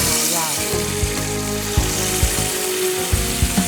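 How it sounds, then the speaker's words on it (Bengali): Food shallow-fries in sunflower oil mixed with ghee, a constant close sizzle with a few soft knocks and taps of utensils, while a low hum runs underneath. "সো সানফ্লাওয়ার অয়েলের সাথে আমি আমাদের রাঁধুনি প্রিমিয়াম ঘি 1 টেবিল স্পুন অ্যাড করবো। ওকে একটু শ্যালো ফ্রাই করে নেব।"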